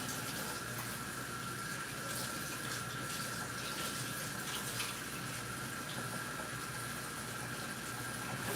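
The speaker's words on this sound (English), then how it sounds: "I'm just gonna wash my hands." Tap water runs steadily into a sink as hands are washed in a home kitchen, a continuous close splashing hiss with no pauses and no talking.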